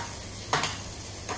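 Bacon fries in a pan for carbonara, giving a brief close sizzle with a louder stir-and-hiss burst in the middle and a smaller one near the end.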